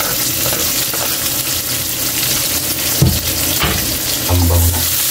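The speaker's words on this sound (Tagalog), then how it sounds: "Pwede na kaili, lagay natin yung sibuyas." Onions frying in a pan after garlic for a Tagalog-style dish, with a loud, constant sizzle and crackle plus a few stirring knocks and scrapes.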